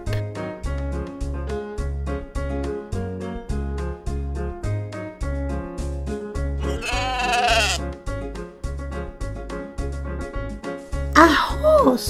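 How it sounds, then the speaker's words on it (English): A toy farm animal puzzle gives off sheep bleats, a wavering bleat near the middle and a shorter one near the end, both loud over continuous upbeat children's music. "A sheep."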